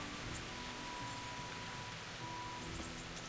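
Steady rain pours in Kingdom Come: Deliverance, a continuous, even wash of drops hitting the ground, close and moderately loud with no talking over it.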